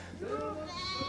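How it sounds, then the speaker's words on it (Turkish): Goats in the Taurus Mountains, a short wavering bleat with a second call overlapping, close and fairly clear against faint background noise. "Torosların sesi gördüğünüz gibi keçilerin sesi."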